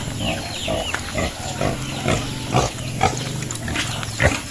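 Pigs grunt repeatedly at close range, a boar with piglets kept uncaged beneath trees, giving a series of low rhythmic grunts with a few louder snorts over steady outdoor background noise.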